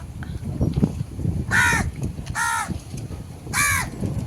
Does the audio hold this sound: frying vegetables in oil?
no